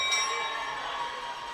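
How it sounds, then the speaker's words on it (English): A bright bell rings out over a long-track speed skating race at the US Championships, marking the final lap, a sustained metallic tone that starts strong and slowly fades, with no talk. "coming up to the bell lap"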